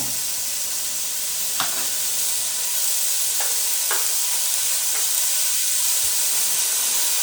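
Food sautéing in an open pan for a Kerala-style egg roast gives a steady, bright sizzle and hiss, broken by a few short scraping stir strokes.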